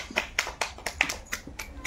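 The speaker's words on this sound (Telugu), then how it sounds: "క్లాప్స్." Hands clapping during a spoon game, about eight sharp claps in a fairly even rhythm, close and moderately loud with little else around them.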